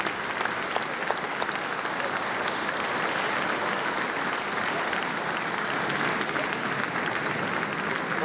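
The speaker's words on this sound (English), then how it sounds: "Now we can clap." A large audience applauds steadily and loudly at the 2018 West Virginia State of the State Address, a dense, sustained wash of clapping from many hands that carries unbroken through the whole stretch.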